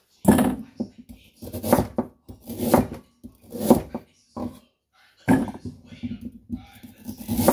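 A knife chops through arrowroot on a board for soup, with crisp, close cuts in quick clusters separated by brief pauses.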